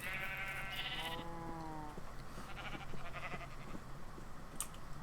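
Several Minecraft sheep bleats, nasal and wavering, repeat over a few seconds, with soft clicks and a light background hum.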